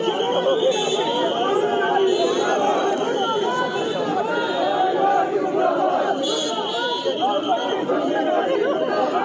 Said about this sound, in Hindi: कांग्रेस पार्टी मुर्दाबाद का जो है यहाँ पे नारा लगाया जा रहा है